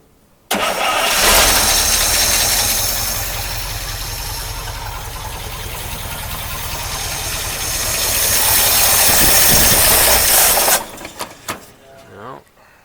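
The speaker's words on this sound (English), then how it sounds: "I know it should start up really nicely because all kinds of gas went down it." A 1953 Oldsmobile Rocket Super 88 barn-find engine cranks steadily for about ten seconds with a loud rhythmic churning, failing to catch, then the cranking stops abruptly with a few clanks after.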